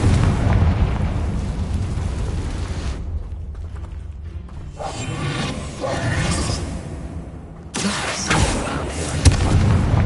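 Confringo fire spell explosions during Hogwarts Legacy combat, with loud rumbling booms and mechanical crunches, a brief quieter dip in the middle, then another heavy burst near the end.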